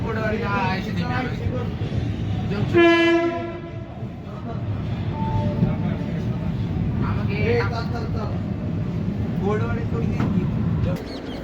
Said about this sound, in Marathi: गाडी संख्या अकरा चारशे चौदा पंढरपूर निजामाबाद एक्सप्रेस कुर्डवाडी रेल्वे स्टेशनवरती सहा वाजून चौवेचाळीस मिनिटांनी पोहोचलेली आहे